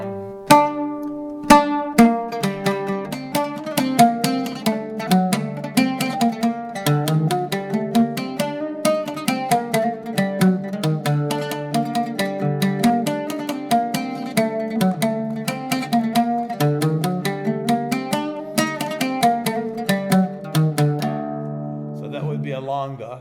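Quick melodic Arabic instrumental tune in maqam nahawand, longa rhythm, on a plucked string instrument, steady lively rhythm of rapid repeated notes, alone without talk.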